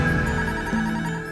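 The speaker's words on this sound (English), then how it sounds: "Now I'm even scared to answer the phone in our own home." A telephone rings in a home, a steady electronic ringtone with a sustained tonal pattern that shifts pitch partway through, fairly close and alone without talk.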